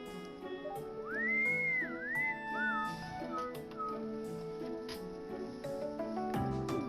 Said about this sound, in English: That innocent whistling isn't fooling anyone.